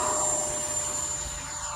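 A radio-controlled model jet flies past with a steady, whining turbine roar at moderate distance, unbroken throughout.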